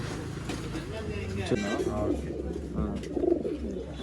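Pigeons being sold as breeding stock in Bangalore give soft, repeated throaty coos close by. People talk in the background.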